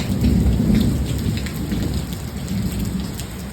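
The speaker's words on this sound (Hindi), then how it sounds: "बाहर देखिए बहुत ज़्यादा बारिश हो रही है और बादल भी गरज रहे हैं।" Heavy rain pours steadily outdoors during a thunderstorm, with low thunder rumbling beneath the constant dense hiss of drops hitting surfaces; loud and close throughout.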